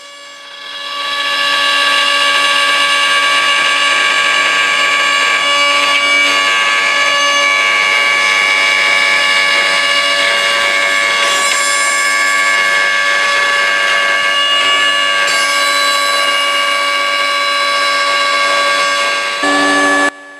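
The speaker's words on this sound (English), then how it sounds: "now I'm just making the final pass with the dovetail bit" A router fitted with a dovetail bit cutting wood for a cantilever coffee table joint, a loud, continuous high-pitched whine that starts abruptly, holds steady for about eighteen seconds, then cuts off.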